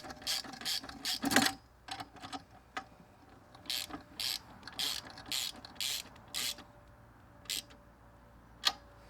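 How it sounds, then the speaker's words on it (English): A wrench is used to tighten bolts while assembling an Earthway 2600A spreader. Quick ratcheting clicks come in short bursts with pauses between them, close and fairly quiet, with no voices. "Go ahead and tighten everything down."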